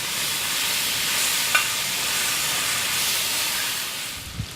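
Bacon frying in a pan for breakfast, a constant close hissing sizzle with a faint click partway through and a soft knock near the end.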